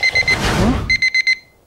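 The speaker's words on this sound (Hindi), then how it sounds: "छे के अलार्म लगा ले रहला ना?" An alarm clock rings in short bursts of beeps, three quick beeps followed after a pause by a group of five, loud and close, with a brief rustle between the groups.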